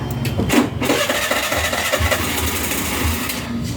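A Suzuki Avenis scooter with trouble idling, its engine cranking and running with a loud, buzzing mid-pitched drone that holds steady close by for a few seconds.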